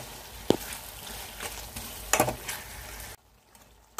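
Eggplant frying in a pan, a soft steady sizzle with a few scrapes of stirring, close and alone before the sound drops away near the end.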